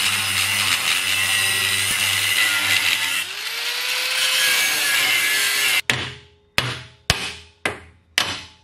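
Wooden floor framing for a teardrop camper being worked, with steady continuous sawing or grinding on 3/8-inch bolts, followed by five sharp hammer-like impacts in a row near the end, with no talk.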